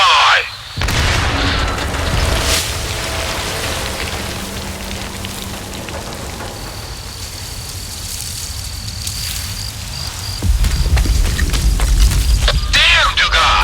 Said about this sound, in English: I think the explosion was only on my end.